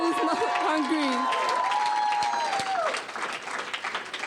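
A church congregation applauding, a dense and continuous wash of clapping with some cheering voices, while a voice speaks over the top, easing off toward the end.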